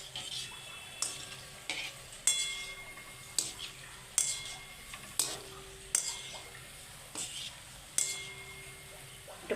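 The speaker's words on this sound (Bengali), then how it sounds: "আমি একটু কড়া কড়া করে ভাজছি।" Langcha sweets fry in oil, with a soft continuous sizzle broken by about ten regular clinks and scrapes of a utensil stirring in the pan, close and fairly quiet.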